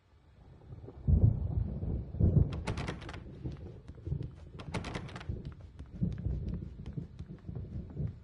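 Thunderstorm in the Alan Wake video game: deep rumbling thunder rolls in around a second in, with heavy low booms and crackling bursts recurring through the stretch, steady and fairly loud with no voices.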